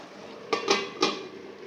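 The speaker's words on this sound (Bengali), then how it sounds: "এবারে এটা ঢাকা দিয়ে দিচ্ছি" A metal lid is set onto a cooking pot of mixed vegetables, giving two or three quick clanks and clatters, close and fairly soft, with no talking.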